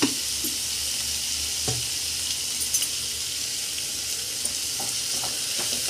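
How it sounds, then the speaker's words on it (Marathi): Onion sautés in oil with curry leaves for kanda poha, a dense even hiss of frying with only a few soft taps of a spatula, steady and close. "आता कांदा छान असा परतून घेऊया आपण।"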